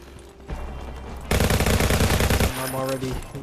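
Bursts of automatic gunfire ring out in the VR shooter Alvo, first a moderate rattle, then a loud, dense stretch of rapid fire that tapers into scattered shots.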